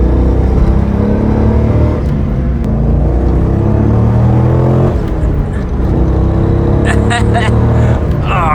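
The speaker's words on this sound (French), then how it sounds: "et voilà la bête, le 5 litres 7 V8" A powerful 5.7-litre V8 engine of a Corvette C5 Z06 rumbles and revs loudly at close range, deep and continuous, with a brief higher whirring near the end.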